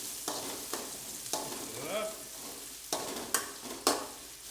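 Thinly sliced onions frying with curry leaves in a pan for a Sri Lankan chicken curry, giving a soft continuous sizzle broken by several sharp stirring scrapes and taps, close and without talk.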